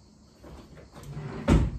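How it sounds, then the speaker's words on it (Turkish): A bedroom drawer for glasses slides shut with a soft scrape and ends in a single firm thud, heard close up in a quiet room. "Yatak odamdaki gözlük çekmecemi yerleştirdim."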